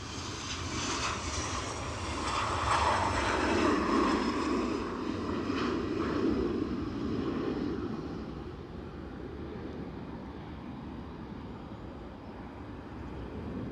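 EasyJet airliner inbound from Krakow on final approach to Edinburgh Airport, a broad jet engine roar swelling to a peak early on and then slowly fading into a lingering distant rumble.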